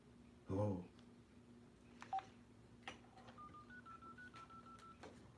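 Telephone keypad tones from a phone dialing out, a short run of brief beeps in quick succession heard faintly after a loud thump and a few clicks, in a quiet room.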